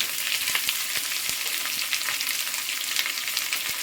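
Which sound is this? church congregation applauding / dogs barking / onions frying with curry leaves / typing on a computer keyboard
onions frying with curry leaves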